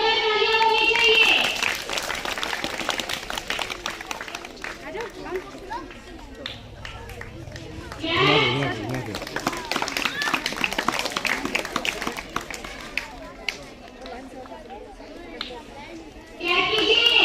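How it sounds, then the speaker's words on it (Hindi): Children and adults clap at a school martial arts self-defence demonstration, a dense, continuous ripple of applause mixed with crowd chatter and children's voices, swelling around the middle and running throughout. "इन बच्चों के लिए जोरदार तालियां होनी चाहिए।"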